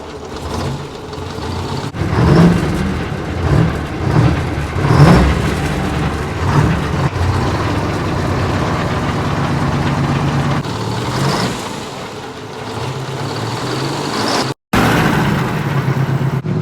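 A supercharged two-stroke Detroit V8 in a long-sitting Kenworth truck runs nearby, a loud steady rumbling idle with a few swelling blips of throttle, then a brief dropout before the running resumes.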